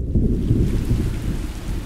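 Heavy rain and a rolling thunderstorm used as a sound effect in a kids' science podcast, a dense, loud, steady roar of rainfall with deep thunder rumbling underneath and no talking.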